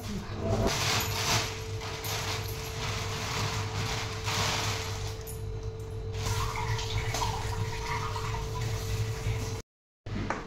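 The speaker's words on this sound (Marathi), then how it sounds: "चपातीला पीठ मळायच्या अगोदर कणी भाजी धुवून कणी अशी निथळत ठेवूया" Leafy greens are washed in water in a home kitchen, a steady running-water rush with splashing and handling noises and a faint hum underneath, broken by a brief silence near the end.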